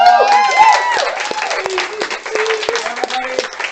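Audience clapping and cheering at a Killer Queen arcade game night, a lively crowd close by with shouts and voices mixed over the applause.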